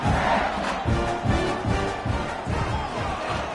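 A stadium crowd in a college football sim video game roars and cheers after a score, the broad swelling noise rising and falling in waves, with no commentary over it.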